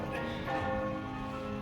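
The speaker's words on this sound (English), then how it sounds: "The bells rang louder and more fervently." Church bells ring out as an audio drama sound effect, a sustained resonant peal with layered ringing tones that hold steadily and dominate the scene alone.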